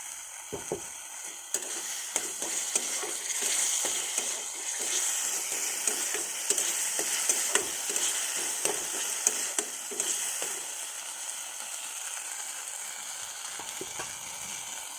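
Potatoes sizzle and crackle in a hot pan with oil, with intermittent scraping and stirring clicks over a steady hiss, close and fairly quiet.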